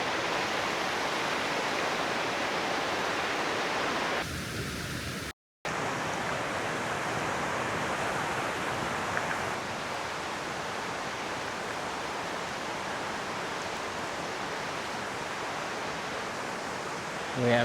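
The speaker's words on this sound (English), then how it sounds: "All these little cascades and little waterfalls and all kinds of stuff out this way." Small cascades and little waterfalls tumble over rocks along the Middle Prong Trail, a steady broadband rush of water that runs throughout with one brief dropout partway through.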